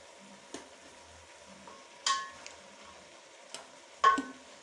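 Kienyeji chicken wet-frying with dania (coriander) in a pot, a faint low sizzle beneath a few sharp scraping clinks from a spoon against the pan, spaced irregularly.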